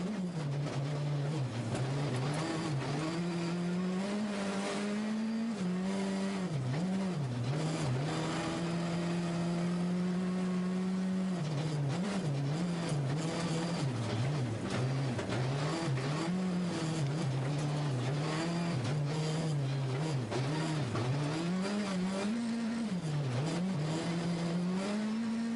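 Rally car at speed on a gravel stage during the 2015 European Rally Championship round in Portugal, engine loud and continuous throughout with rising and falling revs through gear changes, no voices.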